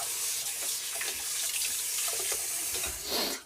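Hands washed under a running kitchen tap, a steady close rush of water that runs throughout with a brief louder splash near the end, no voices.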